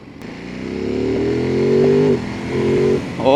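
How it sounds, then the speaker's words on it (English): A Ducati Monster motorcycle engine revs up close, its exhaust note rising in a strong, throaty drone, easing off briefly and revving again before a final blip. "when you're actually revving it hard. Got it. It has a good exhaust note."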